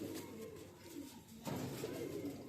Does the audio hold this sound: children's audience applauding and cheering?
no